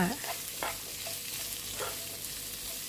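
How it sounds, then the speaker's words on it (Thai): Shrimp, squid and onion stir-fried over medium heat in a flat pan with little oil: a steady soft sizzle with occasional scraping strokes of the stirring utensil, close and fairly quiet, no talking. "เอากุ้ง ปลาหมึก แล้วก็หอมหัวใหญ่ใส่ลงไปพร้อมกันเลย แล้วก็คนทุกอย่างให้โดนความร้อนทั่ว"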